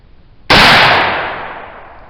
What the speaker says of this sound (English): Okay, second shot of our Buckthorn alder charcoal black powder.